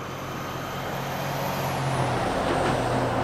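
A truck passes on a Boston street, a loud steady rumble and hiss that builds slightly, with a high air-brake squeal trailing across the top.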